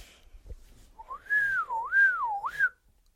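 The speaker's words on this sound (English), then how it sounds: "Would you like to demonstrate your whistling ability?" A child whistles a single melodic whistle that wavers up and down in pitch for about two seconds, clear and close, with no talking.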